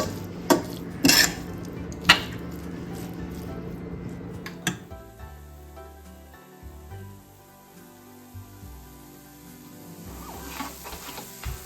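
Broad beans being stirred into a stir-fry with freshly made spice podi in a pan, with a few sharp utensil clinks and scrapes at the start, then a softer, quieter mixing that goes on to the end.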